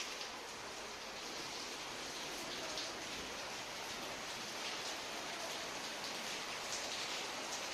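Steady rain falls at night around ten o'clock, a dense, even hiss of drops on surfaces that stays loud and unbroken throughout, with no voices over it.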